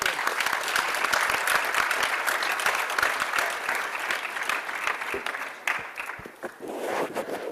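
Sustained audience applause at the Africa Health Agenda International Conference (AHAIC), thanking a panel; dense steady clapping from a large hall crowd that thins and tapers slightly toward the end.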